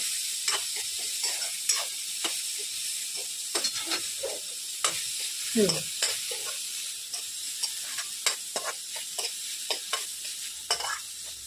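Chopped tomato sizzles in a hot tadka for dal fry, a constant bright frying hiss broken by frequent scraping stirs of a spoon against the pan, close and clear with no talk.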